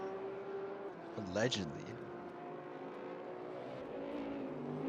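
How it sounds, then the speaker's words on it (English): A Porsche race car in a sim racing game at Silverstone whooshes past in a brief, rising-then-falling engine sweep, heard under a commentator's voice against a low background drone of other cars. "there goes a Porsche"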